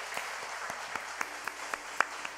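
Scattered, sparse hand claps from a church congregation at a new-members graduation and baptism service, a handful of distinct claps spread unevenly and heard fairly faint against a quiet room.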